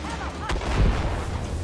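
Tank cannon fire in the Armored Warfare video game, a single heavy boom about halfway through followed by low rumbling, close and loud against continuous battle noise.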